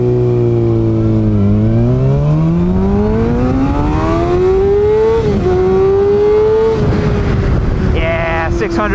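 A Kawasaki ZX6R 600cc sport bike with a flashed ECU revs hard and close, its engine pitch sweeping up through the gears into a loud, sustained high wail, then easing and climbing again.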